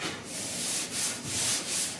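Body filler on a 1966 Ford F100 dash and firewall is block sanded with 80 grit sandpaper, giving a steady, close rasping scrape in rhythmic strokes with no talk.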